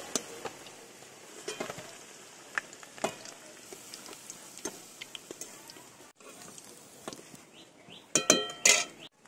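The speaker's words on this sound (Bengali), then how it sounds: "আলুগুলোকে লাল লাল করে ভেজে নেব।" Potatoes fry in oil for chicken biryani, a soft sizzle under scattered utensil clinks and taps, ending with a louder clatter of metal.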